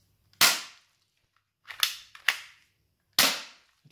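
Manual Glock gel blaster with an upgraded spring firing four sharp, close snapping shots, one alone, then a quick pair, then a final shot, with silence between.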